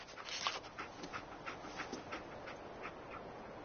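Dogmeat, the companion dog in Fallout 4, pants quietly in a quick, rhythmic series of short breaths, faint and close, with no other sounds over it.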